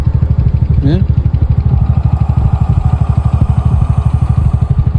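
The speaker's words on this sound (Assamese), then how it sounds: "গাড়ীখন বেক কৰি সোমোৱাই দিলে এইফালে" A motorcycle engine idles and rumbles up close while reversing, its steady low pulsing loud throughout, with a brief voice over it near the start.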